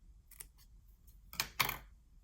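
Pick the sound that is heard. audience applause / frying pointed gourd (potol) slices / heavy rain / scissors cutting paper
scissors cutting paper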